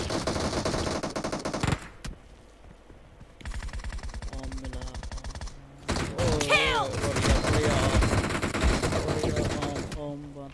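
MK14 rifle in PUBG Mobile fires rapid, loud bursts of automatic gunshots in several clusters separated by short pauses, with game sounds and voice activity mixed in later.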